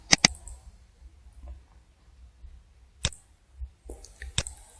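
Sharp, isolated clicks of a computer mouse, a quick double click followed by single clicks spaced a second or so apart, close and clear in a quiet room.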